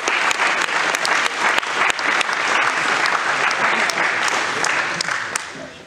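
A crowd gives a young player a loud, sustained round of applause, with many hands clapping densely and a few sharp, close claps standing out, fading slightly at the end.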